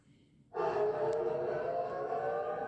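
An air raid siren in Tel Aviv starts abruptly and wails loudly and steadily, a sustained droning tone that fills the clip.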